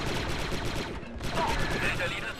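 Blaster gunfire in Star Wars Republic Commando, dense rapid bursts of shots with a brief lull midway, loud and close amid game noise, with a voice speaking over it.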